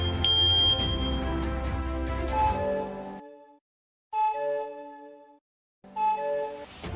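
A smart WiFi smoke detector set off by incense smoke shrills loudly indoors, a piercing electronic alarm tone that cuts out and restarts in repeated bursts with short gaps.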